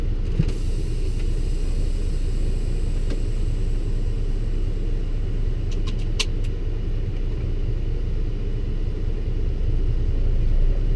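Loaded semi truck with a 13-speed transmission pulling out of a mill lot, its engine a steady low rumble heard from inside the cab, with a few faint clicks near the end.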